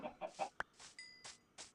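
A video-game chicken clucks in a run of short, sharp bursts with brief pauses between them, fairly close and alone.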